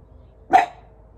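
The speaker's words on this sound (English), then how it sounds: "Sorry, my dog is a little anxious right now." One brief indoor bark from an anxious dog, moderately close, rises out of a quiet room.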